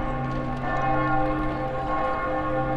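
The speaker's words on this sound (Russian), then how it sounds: "Классные колокола" Church bells ring with a sustained, resonant metallic hum, overlapping tones lingering steadily at moderate volume.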